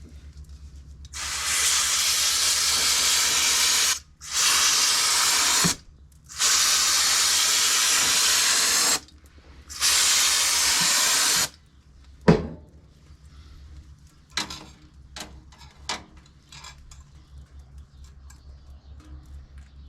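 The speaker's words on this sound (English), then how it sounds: "We're now going to give it just one more blast with the quick drying degreaser" Quick-drying degreaser sprays onto a bicycle chain in four loud, close hissing bursts of a few seconds each, followed by faint ticks and light clatter.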